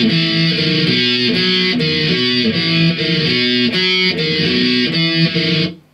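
Distorted electric guitar plays an intro, a loud, steady repeating riff of picked notes that runs alone for several seconds before cutting off sharply.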